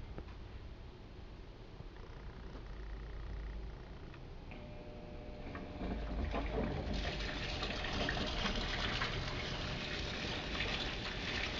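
A washing machine with clothes, soap and softener inside fills with water, a low steady rushing trickle that grows louder and fuller midway and keeps running evenly, close by, with no talk.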